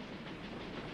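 A moving train in a western film, a steady dense rolling rumble and clatter of rail cars, continuous and fairly faint with no voices.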